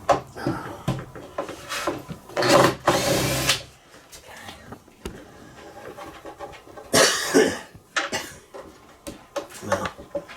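A power screwdriver backs screws out of a Marshall 1960A speaker cabinet in several short bursts of whirring, separated by pauses with handling clatter and breathing nearby.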